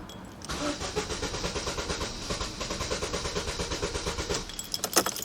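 An old MK1 car that is out of fuel cranks steadily for about four seconds, its starter motor churning in a rapid rhythmic whirr without the engine catching, close and loud with no talking.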